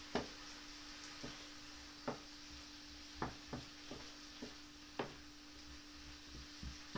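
Cooked prawns get stirred in a pan with a quiet, steady sizzle under a low hum, broken by about a dozen sharp scrapes and clinks of the utensil at irregular intervals.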